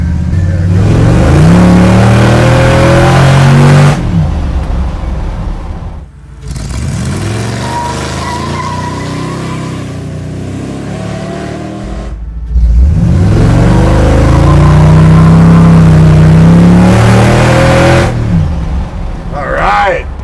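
A supercharged 1968 Ford F100 pro touring truck revs hard in three loud bursts, its engine settling briefly between each climb. The sound is close and powerful throughout the twenty seconds.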